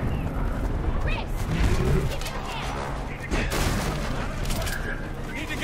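Rapid turret gunfire and explosions in Resident Evil 6, a dense, continuous rattle and rumble with shouted dialogue over the barrage.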